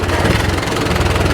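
A 1917 International Motor Truck model F engine runs steadily up close, a loud, even low rumble with a rough rhythmic pulse and no pauses.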